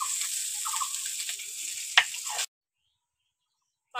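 Small mourola fish sizzle steadily in hot oil in a pan, with one sharp clack partway through, then the sound cuts to silence.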